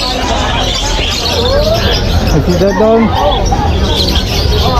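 Small caged birds for sale at a pet market chirp and tweet in short bright calls amid busy crowd babble, with someone talking close by over the noise.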